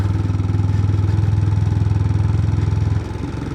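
A Royal Enfield Himalayan 411 motorcycle, freshly fitted with new valves, runs on a road test with a steady, close single-cylinder thump that drops slightly in pitch near the end, loud and alone with no talk.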